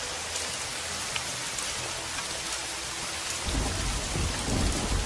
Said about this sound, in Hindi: अब ये बारिश की टेंशन लीजिए कि कब छूटेगी।